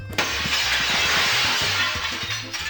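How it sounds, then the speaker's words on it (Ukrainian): A glass window shatters in the video game Content Warning, a sudden crash followed by a sustained bright spray of breaking glass lasting a couple of seconds, loud and close with no talk. "Я можу вікна виламати."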